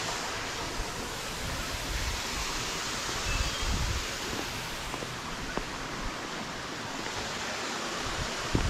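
Steady broadband rush of a small waterfall falling into a small pool at a bathing place in Bulutota, Sri Lanka, a constant splashing roar with no pauses and faint background rustle.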